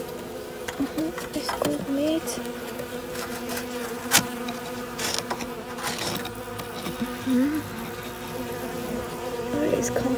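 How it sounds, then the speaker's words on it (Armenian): Bees from a small colony buzz steadily and close by at a beehive as its cover and entrance are adjusted, with a few brief spoken words over the continuous hum. "սպասի մեղու ջան"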